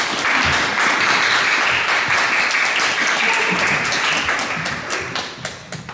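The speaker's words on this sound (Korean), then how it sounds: "감사의 박수 주시기 바랍니다" Church congregation in Vienna applauding in thanks for the volunteers who prepared the shared meal, a broad sustained round of clapping from a large room that thins slightly at the close.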